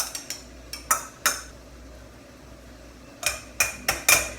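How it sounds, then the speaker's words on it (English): Glass canning jars being set out and filled with candied jalapeno peppers, a scattering of sharp clinks and taps in two clusters with a quiet pause between them. "in the meantime I am going to start filling my jars."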